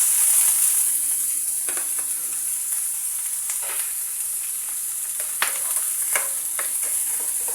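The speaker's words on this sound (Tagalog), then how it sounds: "Okay, tara, gisa na tayo. Nagpainit na ako kanina ng mantika mga kabarangay." Onion, garlic, broccoli and corned beef sauté in hot oil, giving a soft steady sizzle with scattered clicks and scrapes from stirring, close by and without any talking.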